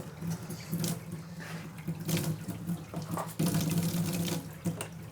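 Cold water runs steadily from a household tap while a heat pump water heater installation is checked, giving a continuous close hiss and splash with slight fluctuations.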